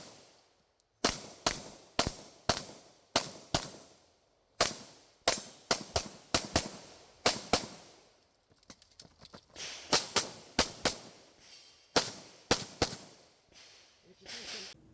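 Gunshots fired in a competitive shooting drill: a rapid string of loud, sharp reports in quick pairs and bursts, with brief pauses between strings.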